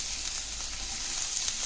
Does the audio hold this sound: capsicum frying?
yes